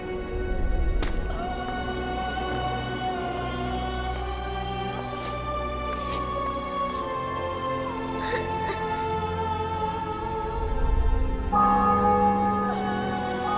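Church bells ring in a city setting in The Witcher 2 video game. Sustained, overlapping metallic tones sound at a moderate distance amid faint background ambience.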